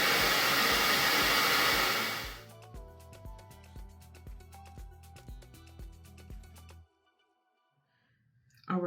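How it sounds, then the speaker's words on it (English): A hair dryer blows loudly for about two seconds while drying hair, then cuts off, leaving faint rhythmic clicking and quiet before a brief noise at the end. "Most likely, I will blow dry my hair."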